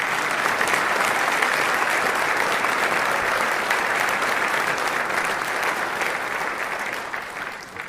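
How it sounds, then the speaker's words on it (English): An audience at an awards ceremony applauds, a dense and loud wash of clapping that holds steady for several seconds and then begins to fade near the end. "Let's give these folks a round of applause."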